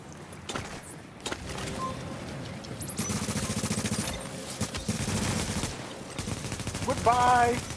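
Rapid bursts of automatic gunfire fill a video game firefight aimed at the player, sustained and loud with brief gaps, while excited voices shout over the shooting.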